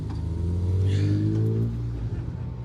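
A rally car, number 60, accelerates hard at Snetterton circuit during a circuit rally championship stage, a loud steady engine drone with rising harmonics that holds close and strong, then begins to ease toward the end.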